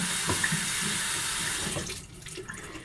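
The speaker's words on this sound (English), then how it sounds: "rinse it." Tap water running steadily into a sink while a Contigo mug is rinsed, a close, continuous rushing stream that softens toward the end.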